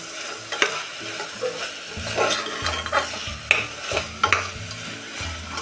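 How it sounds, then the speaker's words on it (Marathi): Ginger, garlic and finely chopped coriander with stems sautéing in a pan, with a constant close sizzle broken by repeated scraping stir strokes and a few sharp clinks of the spoon. "त्यामध्ये टाकूया हे आलं लसूण आणि ह्याबरोबर आपण ही थोडी एक चमचाभर देठासह बारीक चिरलेली कोथिंबीर परतून घेऊया"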